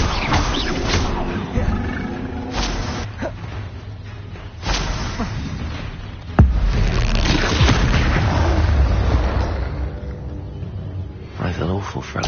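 Hogwarts Legacy battle with a troll near a hamlet: a spell blast booms over ongoing game effects and a roaring creature, with voices talking throughout.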